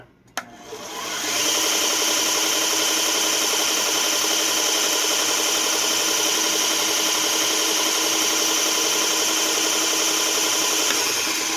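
A small Bucktool 1x30 belt grinder switches on with a brief click and spin-up, then runs at a steady, loud, high whine with no talking.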